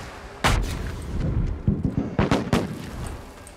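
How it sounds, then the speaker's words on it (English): Fireworks bursting in a video game: a sharp blast, then a quick cluster of popping, cracking bangs, loud and near, with no talk over them. "got fireworks? People still have those? Or is it like a recent event?"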